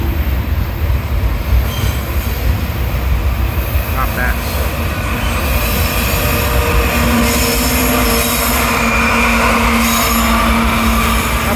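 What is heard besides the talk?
CSX mixed manifest freight train passing with mid-train DPUs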